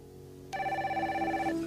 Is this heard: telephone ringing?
yes